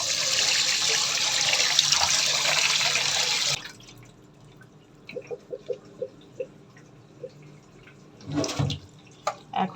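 Tap water runs hard over rice and red lentils being washed for khichuri, a loud rushing stream that stops suddenly, followed by scattered drips, small splashes and a brief swish of the grains in water.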